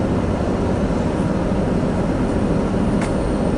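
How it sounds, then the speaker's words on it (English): A long freight train pulled by three engines rumbles steadily past at close range, its loud, even roar of rolling wheels and railcars filling the whole stretch with no voices. "That's a long train. We'll sit here and let it go by."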